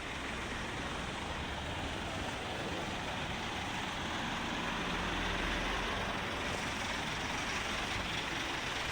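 Steady roar of road traffic in a long jam caused by a multi-vehicle accident near Villasis, Tarlac, with trucks and buses idling and rumbling nearby, a dense continuous engine drone swelling slightly midway, no voices.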